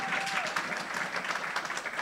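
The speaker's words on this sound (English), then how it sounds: "So can we have a round of applause for the people's winner?" A university research week audience applauds the people's choice winner with a full, continuous burst of many hands clapping. A brief voice trails off at the very start.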